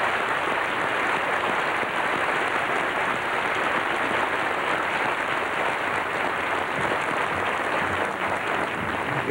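A television studio audience on the 1964 Andy Williams Show breaks into sustained, dense applause, loud and even throughout with no voices over it.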